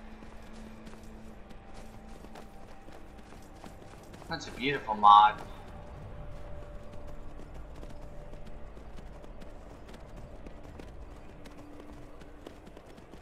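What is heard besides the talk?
horse hooves clip-clopping in the Skyrim video game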